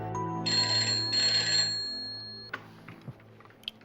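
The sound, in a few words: telephone ringing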